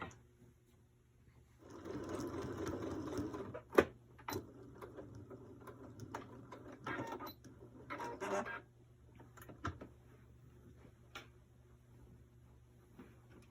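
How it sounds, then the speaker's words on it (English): A sewing machine stitches sleeves into a dress in a quiet room, running in short whirring bursts with pauses, clicks and a few handling knocks between stitches, and no talk. "I'm gonna sew it and show you what it looks like"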